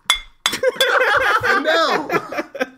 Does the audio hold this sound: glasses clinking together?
yes